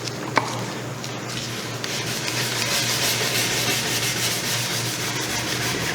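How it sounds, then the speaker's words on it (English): A Scotch-Brite pad scrubs shellac off a Victorian wooden door, making a continuous, close, gritty rubbing that carries on steadily over a low background hum. "This poor Scotch-Brite pad is getting really saturated with shellac"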